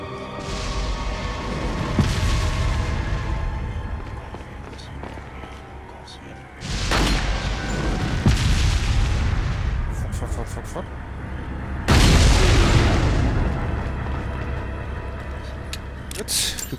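Heavy cannon shots and booming explosions in the video game Resident Evil 4, with several loud blasts breaking up a continuous rumbling background.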